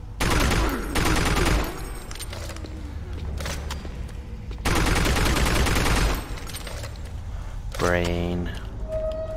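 Bursts of rapid gunfire from the game Doom 3 VR, loud and sustained in several long volleys with quieter stretches between, and a voice talking over parts of it.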